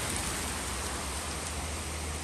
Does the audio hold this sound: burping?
no